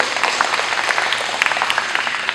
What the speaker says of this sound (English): When you all are clapping and cheering for me presenting on this big stage